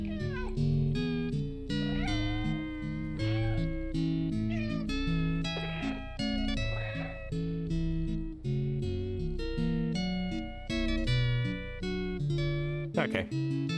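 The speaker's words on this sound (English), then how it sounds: "I can still meow in the cutscene." A cat meowing repeatedly in the video game Stray, short chirpy meows over a light, melodic music score that plays throughout, close and clear, with a voice briefly audible underneath.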